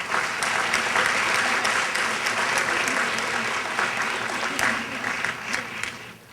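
An audience applauds new teachers at an education event, a dense, sustained wash of many hands clapping at fairly steady loudness that tapers off at the end, with speech faintly mixed in.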